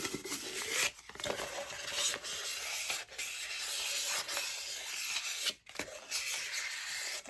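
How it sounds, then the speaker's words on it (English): Fine sandpaper rubs in circles around the top rim of an epoxy-coated tumbler, a close, dry, steady scratching hiss broken by a few brief pauses. It is soft and alone, with no talk. "I use a fine sandpaper, and I like to put it on the top like this and go and circle it"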